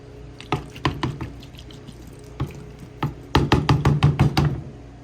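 Water splashes into a gold pan holding concentrates, coming as a run of sharp knocking pours and drips, sparse at first then in a rapid cluster near the end, close and alone.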